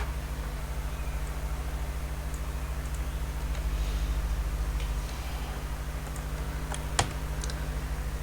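Laptop keyboard keys click softly as a command is typed, scattered light taps over a steady electrical hum, with one sharper keystroke near the end; no talking.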